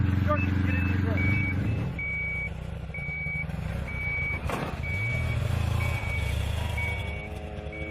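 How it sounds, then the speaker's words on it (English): A truck's reversing alarm beeps in a steady, evenly spaced series over a loud idling engine, with a brief hiss of air brakes in the middle. "As long as it's beeping like that"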